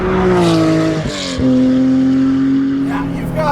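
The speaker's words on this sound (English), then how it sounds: "When you start it, it's got a hot rod idle to it, but it sounds race car." A Guntherwerks Porsche 400R with an air-cooled engine idles with a lumpy hot-rod character, a loud close-up drone with a brief throttle blip and falling pitch before settling back to a steady idle.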